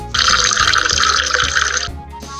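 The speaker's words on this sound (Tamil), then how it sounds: "ஆறு லிட்டர் பால் ஊற்று" Six litres of milk pour steadily from a milkman's can into a grandmother's vessel in a Tamil cartoon, a continuous bright liquid splash lasting about two seconds, loud and alone with a soft musical bed beneath.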